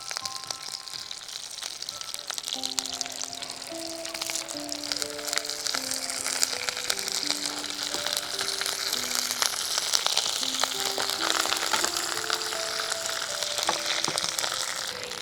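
Mustard seeds, home-grown chillies, dried red chillies and plenty of curry leaves fry in hot oil for a nol fruit chutney. The oil crackles and spatters densely and close throughout, with tinkling melodic music playing over it.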